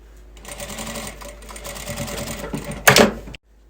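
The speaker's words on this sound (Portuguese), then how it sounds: "E agora, é só continuar a costura" A sewing machine runs in a quick continuous burst, stitching a fabric hem while sewing a bonbon holder, with a sharper loud whir just before it stops abruptly.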